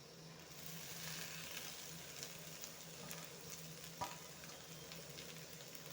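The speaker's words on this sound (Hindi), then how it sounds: "मैंने प्याज को किस तरह फ्राई कर लिया" Onions and lettuce saag frying in a pan, giving a steady soft sizzle, faint and continuous with a light stir or clink now and then, and no voices.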